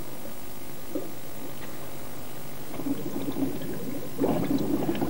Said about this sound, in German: wie wir es hier im Experiment zeigen, Wasser an glühendem Eisen in seine Bestandteile zerlegt